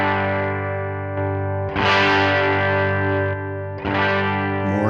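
An electric guitar plays through a Helix preset with the drive changed, sustaining a distorted chord with a steady hum, then ringing out in louder, gritty strums.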